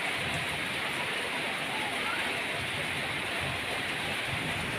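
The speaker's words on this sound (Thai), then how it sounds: "นี่ก็ฝนตกอีกแล้วนะครับ" Steady rain pours down at a house, a dense, unbroken hiss that stays loud and even throughout.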